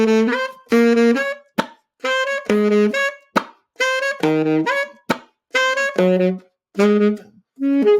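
Beatboxed saxophone playing, mixing low bass notes with high melodic notes and percussive pops in short phrases, a solo horn loud and close with brief gaps between bursts.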